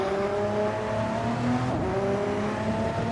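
LMP1 prototype race cars in a racing video game scream through the final corners at Barcelona, engine notes layered and shifting as they battle closely, loud and continuous with no voices.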